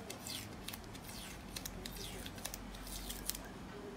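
Old underwrap tape is peeled off a golf club grip by hand, giving a series of short crackling, tearing rips close up, with faint talk in the background.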